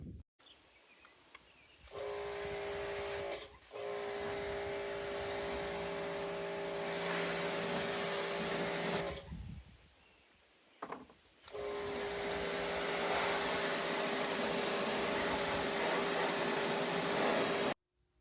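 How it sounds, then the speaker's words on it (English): A pressure washer blasting old barnwood in a shop: a steady loud motorized hiss and spray roar with a tonal hum, running in long stretches broken by two short pauses, close by and with no talking. "I went to Fargo and bought a pressure washer, so we're gonna see if that works any better or not."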